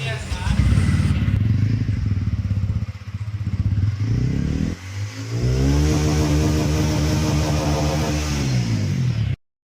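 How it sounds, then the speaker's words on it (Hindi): A TVS Ronin motorcycle's exhaust burbles loudly up close, idling with a steady low thump before revving hard and settling into a sustained rising engine drone that cuts off abruptly at the end. "अभी इसका एग्जॉस्ट का साउंड एंजॉय करेंगे, तो चलिए देखते हैं इसका एग्जॉस्ट कैसा साउंड देता है।"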